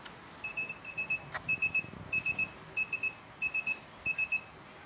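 A DSP board plugged into a computer over USB gives soft, high electronic beeps in quick groups of three, repeating steadily and clearly over a quiet background.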